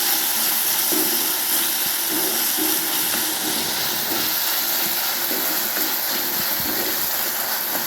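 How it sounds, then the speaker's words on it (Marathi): Chopped tomatoes with half a spoon of salt cook in a pan for a pea and potato curry, giving a steady, even hiss and sizzle that runs the whole time with no talking. "टोमॅटोला छान असं शिजून घेऊया"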